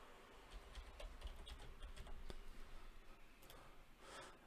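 Quiet typing on a computer keyboard, a string of soft, irregular key clicks tapping in quick succession, faint and close, with a brief pause before a final cluster of taps.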